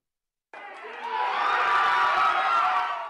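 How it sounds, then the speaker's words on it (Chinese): A crowd of family and friends at home cheers and whoops for the US Olympic team, a loud, sustained roar of mixed adult and children's voices that swells after a sudden start and holds steady. "美国队的好表现还是让家乡的亲友热烈喝彩"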